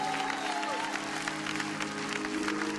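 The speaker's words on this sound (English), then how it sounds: "If you're thankful for Cameron Fontana, won't you put your hands together?" A church congregation claps hands during a Pentecost praise break, a dense, continuous wash of many hands with crowd noise and music tones underneath, steady and fairly loud throughout.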